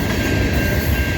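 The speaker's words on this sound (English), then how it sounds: "I knew this train was gonna come." Norfolk Southern freight train rolling past at a grade crossing in London, Ontario, a steady loud rumble of wheels and cars filling the whole stretch with no pause.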